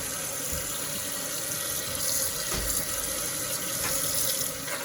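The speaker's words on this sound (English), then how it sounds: "we're in the kitchen and we're rinsing off our strawberries" Strawberries rinsed under a kitchen sink tap, a continuous close gush of running water splashing into the basin, steady throughout with slight surges.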